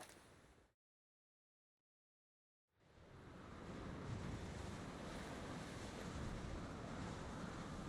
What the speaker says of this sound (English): Geralt will swim his way over, in this freezing cold water